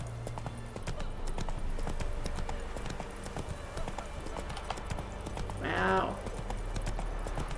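Roach, Geralt's horse in the video game Witcher 3, gallops with a steady, rapid clip-clop of hooves under a player's brief spoken remark, and a short whinny-like cry near the end.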